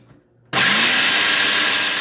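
After a brief quiet moment, a kitchen blender whirring with olive oil added kicks on abruptly into a loud, steady, high-pitched roar that holds without letup.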